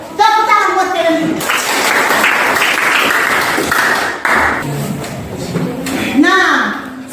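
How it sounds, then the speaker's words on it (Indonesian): Students clapping in a middle school classroom, a loud burst of applause between stretches of talk and children's voices, rising after a brief spoken opening and tapering as talking returns. "Tepuk tangan buat kalian"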